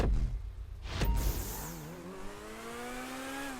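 An FMJ supercar in GTA V launches hard, its engine rising in pitch through rapid gear changes and then climbing steadily in a smooth, loud whine with no talk over it.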